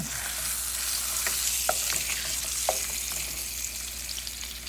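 A tilapia fillet sautés in a pan with a steady, fairly quiet sizzle and a few soft utensil taps now and then, with no talk over it.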